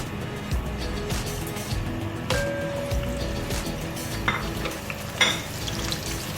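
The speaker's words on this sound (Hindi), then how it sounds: "इसमें मैं सबसे पहले ज़ीरा, सौंफ और मेथी दाना और कड़ी पत्ता ऐड कर रही हूँ।" Cumin, fennel, fenugreek seeds and curry leaves sizzle and crackle steadily in hot oil, with occasional stirring clinks and pops, close and moderately loud with no talking.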